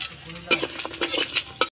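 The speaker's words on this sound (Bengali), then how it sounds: "ডালের বড়ি আমি ভেজে নিচ্ছি" Lentil dumplings (bori) frying in hot oil in a Bengali home kitchen, a close, steady sizzle broken by a few louder bursts of stirring and spatula scrapes.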